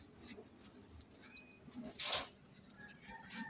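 Pet pigeons in a Filipino backyard loft cooing softly in short, repeated murmurs, with a few brighter chirps and one louder burst of fluttering mid-way, fairly close and without talk.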